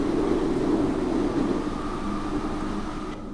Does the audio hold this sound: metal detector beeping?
no